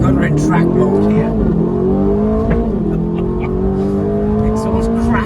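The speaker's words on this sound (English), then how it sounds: "Exhaust crack on the way up there." A 2025 Aston Martin Vantage in track mode accelerates with a loud rising engine note climbing through gears and sharp exhaust crackles, heard from inside with a voice talking over it.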